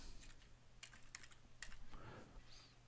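Computer keyboard typing, a quick run of light, close key clicks in an irregular rhythm, fairly quiet and with no talk.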